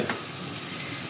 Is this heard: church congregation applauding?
no